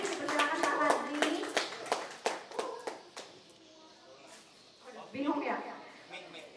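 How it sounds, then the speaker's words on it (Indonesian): Scattered hand clapping from a small audience at a Propan paint training session, distinct claps starting strong and then thinning out, with a short burst returning near the end and voices talking over and between them. "Tepuk tangan dulu dong untuk Pak Fadli."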